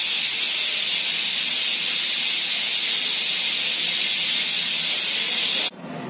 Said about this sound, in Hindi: मैं इसका प्रेशर निकाल रही हूँ